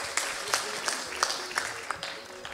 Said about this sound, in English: Please, a round of applause for each and every one of you.